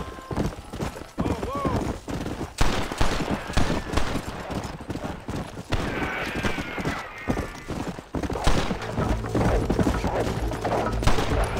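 Rapid bursts of sharp gunfire crackle over rhythmic clip-clopping hooves in Red Dead Redemption, with game music and effects layered throughout.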